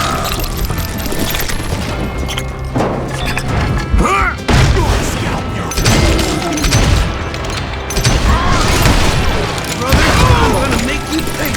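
Gunfire and explosive booms from the Western shooter game Call of Juarez Gunslinger, with repeated loud shots and crashes in dense bursts over music, and voices shouting throughout.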